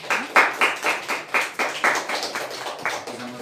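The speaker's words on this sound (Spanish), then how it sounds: "Denle un aplauso también al Señor" Hands clapping in rhythmic, fairly sparse beats at a church youth service, a small group applauding close by, steady for a few seconds before trailing off.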